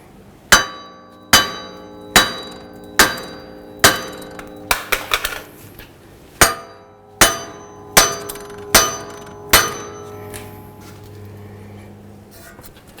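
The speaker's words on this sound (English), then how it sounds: "try to hit on this wheel bearing from side to side a little bit just to break it free" Sharp metallic hammer blows ring out one after another at a steady pace, knocking a front wheel bearing free from the knuckle of a Dodge Journey, with a quick flurry of lighter taps midway, loud and close with no talking.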